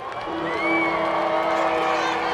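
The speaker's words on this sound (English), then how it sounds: "we can hear the crowd coming to life as the defensive bell is sounding here at Troy" A college football crowd at Troy, Bowling Green visiting, swells with whoops and cheering as a bell rings out, a loud, busy roar from a stadium full of voices.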